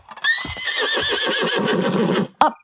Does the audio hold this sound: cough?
no